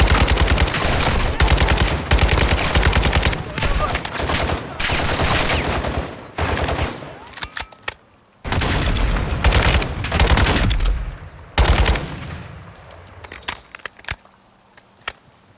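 Dense bursts of gunfire from the Modern Warfare 2 Remake video game, loud, rapid automatic volleys broken by brief pauses, with a few quieter single shots near the end.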